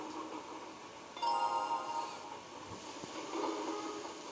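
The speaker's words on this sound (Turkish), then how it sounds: "Üstümüze doğru geliyor tren." A train approaches in the old Hugo video game, a steady rumbling rush that grows louder midway with faint whistle-like tones, no talking over it.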